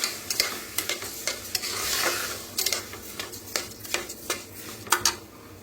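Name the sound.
stirring and roasting mung dal mixture in pan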